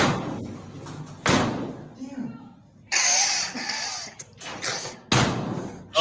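A door is held against pressure and then slammed during a chaotic public confrontation, with heavy thuds and bangs over loud, panicked shouting from several people nearby.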